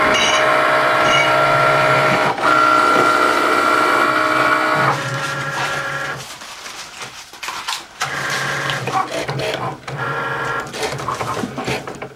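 A Cricut cutting machine slicing vinyl on a mat hums and whirs loudly and steadily, its motor pausing and shifting pitch as the carriage moves, with brief quiet gaps before the buzzing cutting passes resume.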